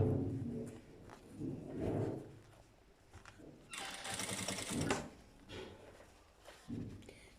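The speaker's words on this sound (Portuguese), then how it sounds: "depois passam a costura de um lado ao outro" A sewing machine stitches a seam across a small fabric piece in one steady burst of about a second, set among softer handling noises and rustling before and after.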